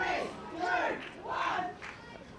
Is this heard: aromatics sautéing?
no